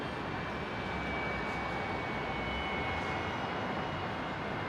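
Steady broadband roar of a Virgin Australia (Velocity) airliner taking off from runway 19 right at Brisbane International Airport, a constant jet rumble that stays loud and even throughout, with no talk.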